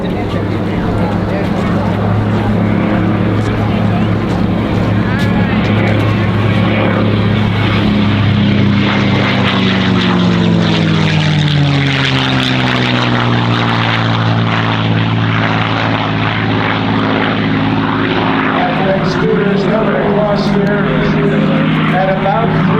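A WWII P-51 Mustang fighter's propeller engine drones loudly at an airshow, its pitch sliding down as it passes close by, with a person talking over it.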